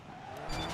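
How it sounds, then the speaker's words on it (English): A car in the DiRT 3 racing game spins a donut in a Gymkhana event, its tires skidding and squealing as the engine hum swells toward the end. "Into a donut."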